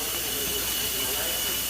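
Sausages sizzle on a hot griddle beside onions, a dense, constant hiss of frying fat, loud and close, with a voice speaking faintly underneath.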